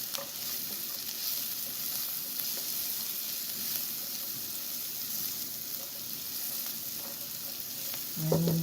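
Peanuts, grapes, dabeli masala and salt are stirred together in a hot pan for Kutchi dabeli, a continuous sizzle with soft scraping strokes close by and a louder clatter at the end.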